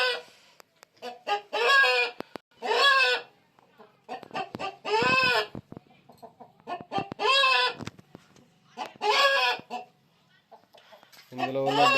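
Newly arrived hens on a poultry farm clucking and cackling in repeated loud bursts separated by short pauses, with a rooster-like crow near the end.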